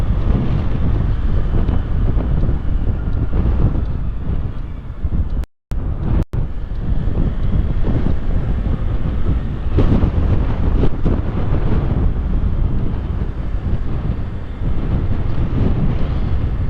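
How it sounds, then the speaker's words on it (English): Gusty wind buffets the microphone on a blustery Tokyo day, a loud continuous roar with rumbling low-end surges and a couple of brief dropouts, no voices over it. "It's a windy one today."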